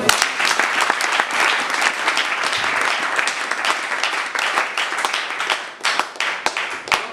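A church congregation at a worship service in Pointe Noire, Congo, applauds to acclaim the Lord: dense, steady clapping from many hands that fills the room and holds loud for the full stretch.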